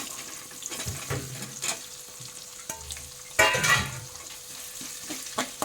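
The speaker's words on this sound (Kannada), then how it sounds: "ಸ್ವಲ್ಪ ಫ್ರೈ ಮಾಡ್ಕೊಳ್ಬೇಕು." Onions and curry leaves with green chillies frying in a pan for a jackfruit stir-fry, a steady close sizzle with a few scraping stirs and one louder burst of crackling partway through.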